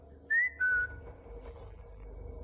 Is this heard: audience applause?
no